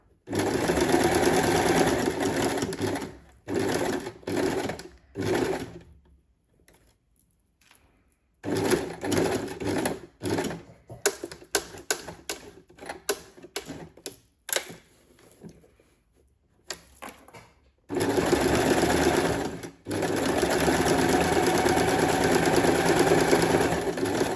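A sewing machine stitches backwards and forwards on a rice-filled hessian and felt needle felting mat, loud close running bursts with brief pauses and a stretch of short stop-start stitching between them.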